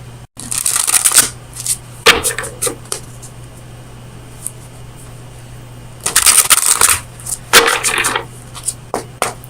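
Tarot oracle cards are shuffled in two long bursts of rapid riffling and slapping, close and crisp, with a quiet gap between them and a low steady hum underneath.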